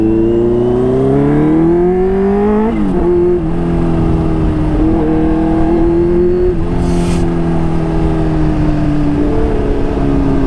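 A Kawasaki H2 motorcycle fitted with a smart boost, dropping from high RPM, gives a loud continuous engine drone whose pitch glides and wavers, with a brief hissing burst partway through, recorded close over steady wind noise.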